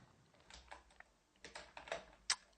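Computer keyboard being typed on in short irregular bursts of light clicking keystrokes, fairly quiet and close, with one sharper key hit near the end.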